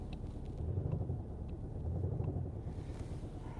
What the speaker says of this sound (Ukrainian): Ще раз трошки газую, слухайте.